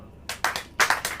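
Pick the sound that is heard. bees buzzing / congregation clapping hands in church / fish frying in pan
congregation clapping hands in church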